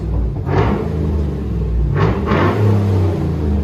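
A 2012 GMC Yukon Denali with a 6.2L V8 and Flowmaster Outlaw exhaust revs up, a loud deep rumble with two rising blips over a heavy idle, close by and without talk.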